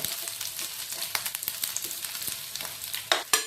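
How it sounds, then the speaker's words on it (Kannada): Sliced onion frying in a little oil in a pan, a steady close sizzle with scattered crackles and a few louder stirring scrapes near the end, no voices. "ಉಳ್ಳಾಗಡ್ಡಿ ಸ್ವಲ್ಪ ಸುಡಬೇಕು."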